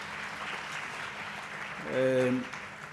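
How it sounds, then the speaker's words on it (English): Audience applause for an acting principal at a college launch event, moderate and diffuse, swelling briefly near the end as a voice cuts in over it. "Let's give you another round of applause,"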